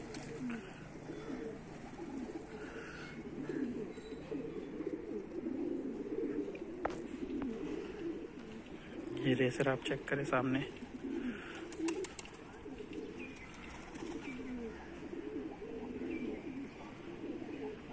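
Pigeons coo softly and intermittently in an outdoor loft setting, with a brief burst of wing flapping partway through, all beneath someone talking.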